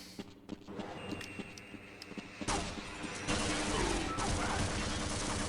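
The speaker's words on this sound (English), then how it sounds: "It shoots 2 shells at a time. In alternate fire mode." Double-barrel shotgun blasts in Half-Life's alternate fire mode, with a couple of loud booming discharges and rumbling impact noise after some quieter clicks and taps.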